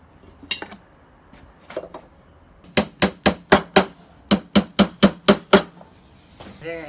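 A hammer strikes a nail punch to drive nails below the surface of wood during light-fixture building, a few scattered taps followed by two quick bursts of about six sharp, ringing metallic blows each.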